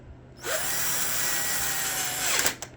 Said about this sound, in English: This is not an impact. This is a drill